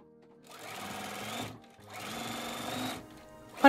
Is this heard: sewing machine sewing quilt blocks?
yes